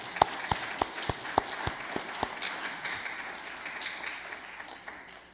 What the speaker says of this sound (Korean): 모두를 위해서 박수 한번 쳐주시기 바랍니다.